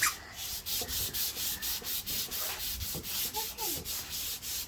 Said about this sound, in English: So we're going to sand with 150, 220, and 320 grit sandpaper.